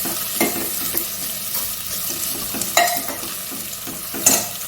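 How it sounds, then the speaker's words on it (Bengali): Chopped goat fat and onion fry in a pan with a constant loud sizzle, broken by a few sharper scraping stirs and clinks of a spoon. No one speaks. "চর্বি আর পেঁয়াজটা ভালোভাবে ভাজা ভাজা একটু হয়ে গেছে"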